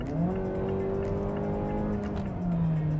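A Mazda6 family sedan's 2-liter engine, paired with a 6-speed torque-converter automatic, revs smoothly while merging into traffic: a steady, rising engine tone heard clearly inside the car with no talking.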